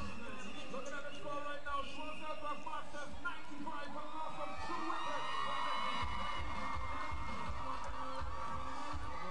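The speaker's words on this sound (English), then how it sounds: "So the crowd getting some entertainment." Crowd at a T20 cricket match cheering and whooping steadily throughout, a dense noisy roar with scattered shouts in the background.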